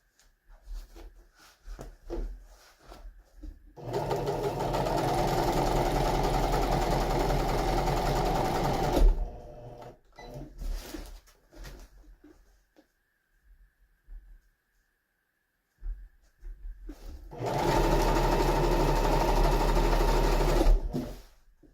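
A sewing machine stitches along the side of a box cushion in two long, steady runs of motor whir, separated by quieter handling and pauses, close and loud.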